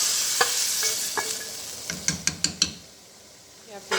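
Carrot halwa with fried dry fruits cooks in ghee, a soft hiss under a series of sharp clinking spatula strokes against the pan, then a quieter stretch before another stir.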